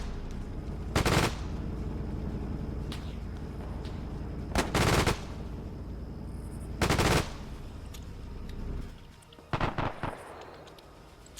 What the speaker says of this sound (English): I'm not sure where that machine gun's firing.